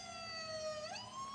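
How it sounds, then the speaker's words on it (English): A siren wails in a video game, a steady electronic tone that dips and then rises again, faint and continuous. "the siren's going off"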